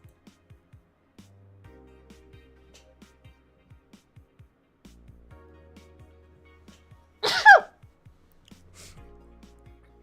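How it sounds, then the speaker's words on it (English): A sudden sneeze bursts out at close range in a quiet room, one loud sharp blast set against faint clicks and a low background hum. "Oh no, I feel another sneeze coming."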